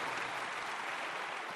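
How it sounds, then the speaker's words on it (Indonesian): A congregation at a church service claps together in a brief, steady wash of applause, heard from a moderate distance with no voices over it. "Give the Lord a big clap"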